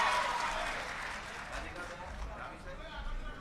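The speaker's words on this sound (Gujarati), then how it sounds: "જોરદાર તાળીઓથી એમનું સ્વાગત કરીએ મિત્રો" A crowd at an Aam Aadmi Party political rally in Gujarat claps to welcome Gopal Italia, the applause strongest at first and then thinning out, with a voice talking over it.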